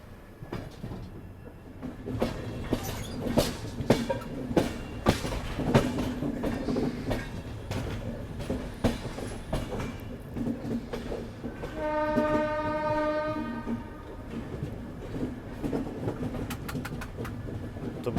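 The Marudhar Express, a diesel-hauled passenger train, departing around a curve: steady rolling wheel clatter and rumble with a sustained horn blast partway through, heard close and loud with no talk.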